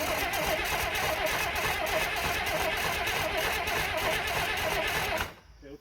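A Case 2290 tractor engine, a crashed machine, cranking with a fast steady mechanical chatter that runs loud and continuous before cutting off abruptly near the end.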